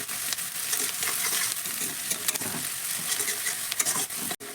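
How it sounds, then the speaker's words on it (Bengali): Onion with grated garlic and ginger stir-fried in a pan for pasta, a continuous close sizzle with soft scraping stirs throughout, no voices. "আদা রসুনটাকে একসঙ্গে দিয়ে ভালো করে পেঁয়াজের সঙ্গে একটু নাড়াচাড়া করে ভেজে নেব।"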